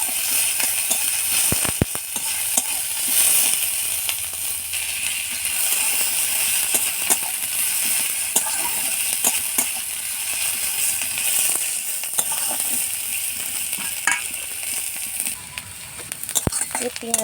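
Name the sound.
chopped onion frying in oil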